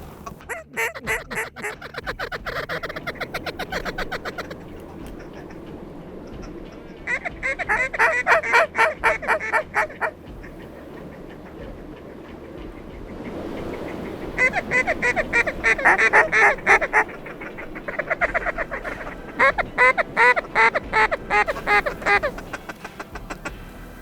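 Mallard ducks calling in flight over a warm-water creek in Nebraska during a hunt: repeated bursts of loud, raspy quacking and chattering come in waves, close and clear, with quieter stretches between groups.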